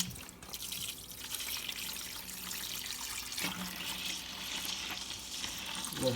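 Homebrew beer pouring from the tap of a BrewTools B80pro brewer into a fermenter, a faint steady splashing trickle of liquid with a low watery hiss throughout.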